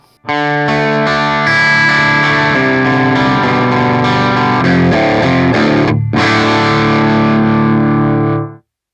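A distorted direct-input electric guitar, recorded through a Two Notes Torpedo C.A.B. M, plays a steady stream of sustained chords and notes, loud and dry, with a brief cut near the end before ringing out.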